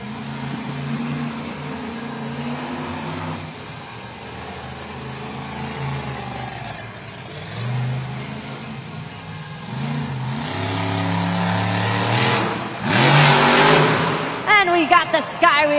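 A monster truck at a Monster Jam event in Tampa, Florida revs its engine through a sky wheelie up a ramp, with surging, rising and falling roars and crowd noise, while an announcer talks over it.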